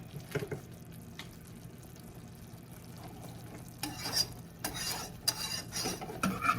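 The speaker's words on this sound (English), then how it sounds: "Just stir it here a few more minutes." A spoon stirs burnt sugar caramel cooking in a pot with a soft, steady sizzle underneath, and a few louder scraping strokes against the pot come toward the end.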